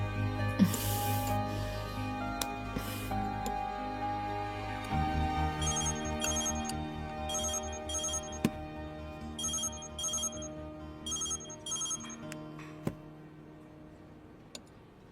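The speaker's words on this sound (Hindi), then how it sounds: "इस समय किसका फोन था?" Telephone ringtone plays in a Chinese drama scene dubbed into Hindi, a steady melodic ring with repeating bright chime bursts that continues for about fifteen seconds, clear and upfront with no one speaking.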